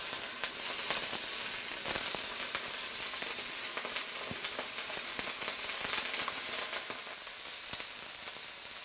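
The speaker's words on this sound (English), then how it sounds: "I'm going to sear my shrimp first so that I can control the doneness of my shrimp" Shrimp searing in hot oil in a pan while cooking salted egg yolk fried rice, a steady loud sizzle with crackling pops throughout.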